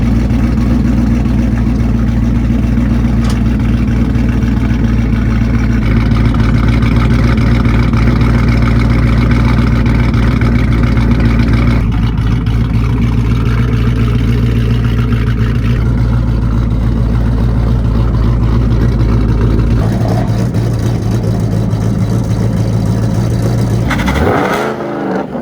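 A Ford Mustang Boss 302 track car running on E85 roars loud and close through a side-dump exhaust, holding a steady deep drone with shifting revs before cutting off abruptly near the end.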